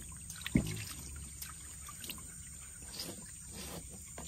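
Water is poured over a gold panning dish at a forest gold-mining site, giving a faint, steady trickle and splash beneath a constant hum of insects, with one brief louder knock near the start.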